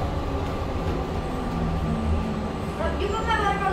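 A BART train at the San Francisco airport station, a steady rumble of the rail car with rising whine and tones near the end as it moves, under a recorded announcement voice.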